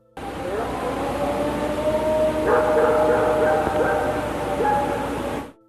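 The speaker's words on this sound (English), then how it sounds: "First there's this howl, then a neighborhood dog chiming in, then something else, supposedly deeper in the woods, answering back." At night in an Ohio forest, a dog barks and howls amid a distant chorus of answering calls, a fairly loud, tonal, wavering sound lasting several seconds.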